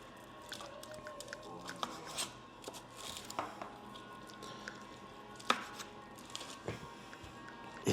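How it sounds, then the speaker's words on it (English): A knife slicing cooked chicken gyro meat into pieces on a board, quiet scraping and soft cutting strokes with scattered small clicks and taps, close and faint. "cut this into good sized pieces, throw them into this tray"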